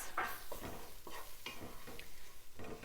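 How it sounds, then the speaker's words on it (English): A spice and flour mix is stirred into cooked onions in a pot for cheesy chili mac, with soft scraping strokes and a light sizzle repeating at a steady rhythm, close and fairly quiet. "I'm going to add in the spice mix that also has flour in it as well. And I'm going to mix that up with the onions"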